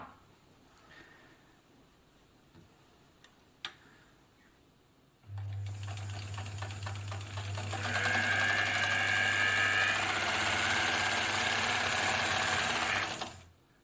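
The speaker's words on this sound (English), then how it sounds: "We won't be using that right away because I'll demonstrate the straight stitches first. Okay, so we're ready to sew there." An Elna Supermatic sewing machine sews straight stitches with a loud, steady mechanical whir and a fast, even chatter that speeds up partway through, after a few quiet clicks and handling sounds.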